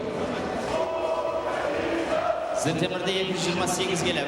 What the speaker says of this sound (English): the mention of Ukraine gets a whole section of the crowd chanting and cheering